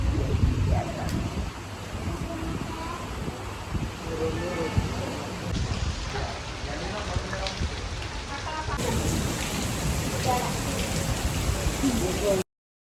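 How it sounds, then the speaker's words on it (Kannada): Heavy rain pours steadily in a broad, continuous hiss, close and loud throughout with no clear breaks, during a family trip to a temple and home in the rain. "ಎಷ್ಟು ಮಳೆ ಬರ್ತಾಯ್ತು ನೋಡಿ"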